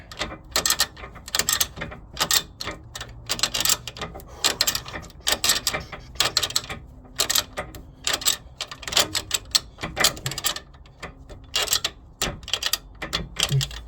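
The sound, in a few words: spanner tightening nut on Renault Megane drop link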